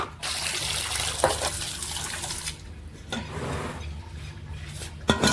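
Ivy gourds (tindora) rinsed under a running kitchen tap, a steady close splash and trickle of water with a few short interruptions and clattering moments as the gourds are handled.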